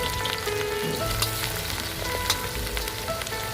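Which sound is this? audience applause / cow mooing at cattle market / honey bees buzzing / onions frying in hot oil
onions frying in hot oil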